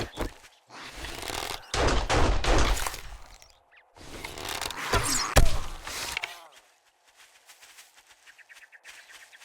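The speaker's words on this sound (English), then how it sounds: "eventually, I'll hear gunshots" Gunfire in the zombie survival game 7 Days to Die, War of the Walkers mod: loud, sharp bursts of rapid shots in two clusters, with a sudden heavy crack, then fading into a quiet stretch of faint noise.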